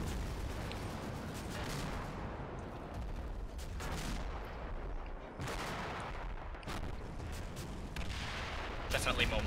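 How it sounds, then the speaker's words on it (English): Mortar fire rumbles through a video game in dense, continuous booms and crackling gunfire. Sharper blasts break out now and then, and all of it stays loud with no letup. "Definitely more mortars."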